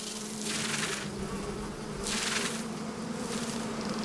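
Giant Himalayan cliff honey bees buzz in a dense, continuous drone at the cliffside colony, with swelling waves of louder high buzzing roughly every second, alone without voices.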